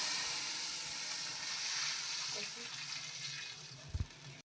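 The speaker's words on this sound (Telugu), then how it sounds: "ఇప్పుడు వాటర్ మరుగుతున్నాయి." Water boils in a pan with hot ghee, a close, steady bubbling hiss with a few sharper pops toward the end, while a voice talks over it.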